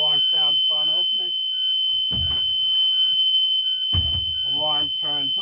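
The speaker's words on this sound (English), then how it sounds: "The door opens, it also locks into place. Alarm sounds upon opening." A high, continuous electronic alarm tone sounds steadily when the rear door of a vehicle is opened, with a few short beeps and someone talking over it in a quiet space.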